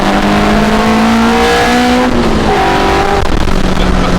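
A 1986 Corolla engine with VTEC revs hard and loud, its droning harmonic tone climbing in pitch, dipping briefly around the shift point, then rising again without a break.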